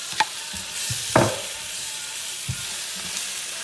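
Chilies fry in a pan for okra masala: a soft, steady sizzle with a few scraping stirs and clinks of a utensil against the pan, heard up close.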